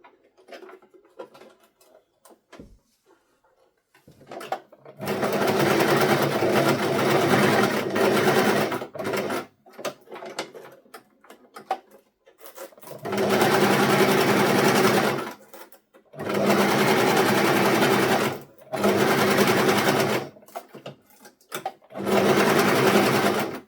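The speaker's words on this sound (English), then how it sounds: "Then I'll go ahead and sew, sew, sew, and sew." A sewing machine stitching Velcro onto fabric runs in four long, steady bursts, loud and close, with short quiet pauses and faint handling noises between them.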